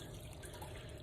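A kitchen tap runs steadily into a container for pizza dough, a close, even rush of water with no voices.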